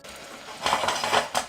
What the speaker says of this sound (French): Je vais mettre grosso modo la moitié dans une casserole.